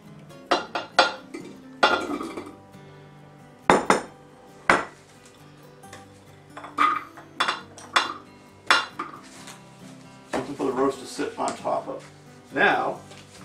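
A venison roast in a crock pot is lifted while vegetables go in, making repeated clinks and knocks of metal utensils against the ceramic pot, scattered loud taps with short gaps between them.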